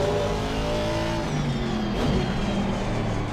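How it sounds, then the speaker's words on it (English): An Aston Martin race car in a sim racing game on the Nürburgring GP circuit, its engine droning steadily at high revs with a slight rise in pitch, close and continuous with no talk. "We're driving the Aston Martin here in the GP part of the Nordschleife"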